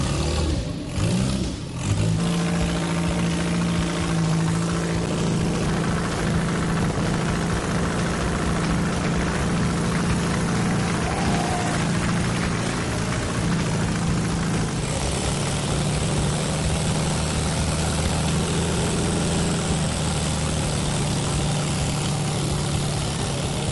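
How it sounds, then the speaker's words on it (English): A steady mechanical engine drone from an engine running in water with no oil, loud and close, with a rough churning texture and a slight shift in tone partway through. "An engine running in water with no oil."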